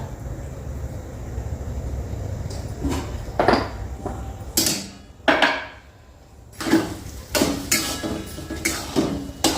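Beaten eggs mixed in a bowl in a home kitchen, a run of uneven clinks and knocking taps from the utensil against the bowl, with short gaps of quieter room sound between bursts.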